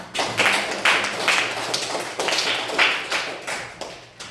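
Classroom of students clapping for a group presentation, a loose scattering of hand claps in uneven bursts that swell and fade, fairly close and with no talking over them.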